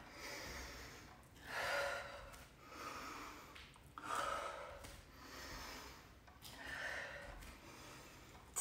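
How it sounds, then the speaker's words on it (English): Heavy rhythmic breathing during a home workout exercise, with three or four long, loud breaths in and out at a steady pace of one every two to three seconds, close up and with no talking. "Breathe in as you go down, breathe out as you come up."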